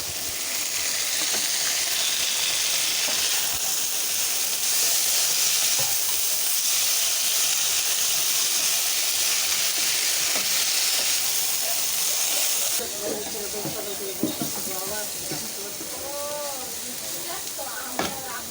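Cabbage and yardlong beans fry in a pan with a steady sizzling hiss for most of the time, which then eases off as someone talks over the quieter cooking.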